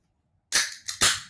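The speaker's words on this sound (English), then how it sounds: "Yeah, that's the sound of a Fresca." A sharp hiss and crack of a Fresca soda can tab popping open, followed by a second burst of fizzing release, with silence beforehand.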